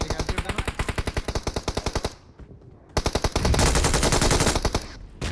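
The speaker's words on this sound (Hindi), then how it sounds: "अब जो ड्रॉप वाली मशीन गन है इसका बहुत ज्यादा डैमेज है" A drop machine gun in a mobile battle royale game fires a fast, loud, rhythmic burst, falls briefly quiet, then unleashes more rapid shots blending into a sustained roar of gunfire.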